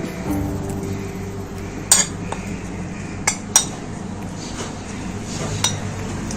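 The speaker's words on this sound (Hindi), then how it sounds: "इसको ऐसे हमने लहसुन अदरक के पेस्ट में ऐसे मिक्स कर देना है" A metal spoon clinks and scrapes against a bowl while eggplant slices are mixed with spices and ginger-garlic paste, a few sharp clinks over a continuous low background hum.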